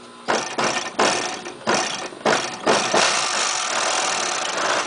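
An overlock sewing machine stitching the edge of a leather piece runs in five short, loud motor bursts separated by brief pauses, then settles into one longer continuous whirring run.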